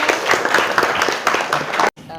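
Classroom applause from pupils, a dense patter of clapping lasting about two seconds before cutting off sharply, followed by a brief quieter sound.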